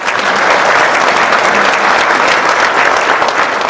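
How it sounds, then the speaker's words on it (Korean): Loud, dense applause from a lecture-hall audience honoring Vietnam War veterans, a steady wash of many hands clapping close by for the whole stretch. "박수 부탁드립니다."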